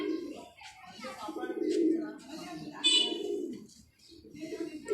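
Several pigeons coo at fairly close range in a short run of soft, throaty calls. Someone talks in between the coos.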